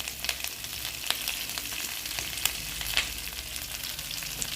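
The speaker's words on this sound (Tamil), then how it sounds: "கருவேப்பிலையும் போட்டு நம்ம நல்லா வதக்கலாம்." Washed curry leaves fry in a pan with a steady sizzling hiss, punctuated by sharp crackling pops at irregular intervals, close and fairly quiet.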